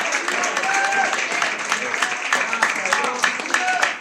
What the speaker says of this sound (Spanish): Alguien dele un gloria a Dios y un aplauso al Señor en esta hora.